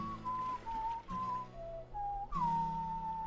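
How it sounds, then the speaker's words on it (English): A melodic whistled tune from the Henry Stickmin Collection video game, a few clear sustained notes stepping up and down in short phrases, with no talk over it. "that whistling is a reference to Final Fantasy VI."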